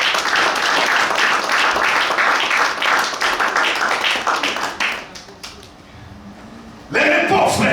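A church congregation claps and applauds loudly for about five seconds. The applause then dies away into a quieter stretch with scattered claps, and a voice speaks near the end.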